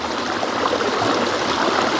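A waterfall stream rushes beside Ui Kham Homestay in Chiang Dao, Chiang Mai, making a steady, loud, close hiss of flowing water with no voices.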